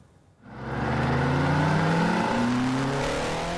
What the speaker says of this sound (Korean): 굉음을 내며 질주하는 오토바이.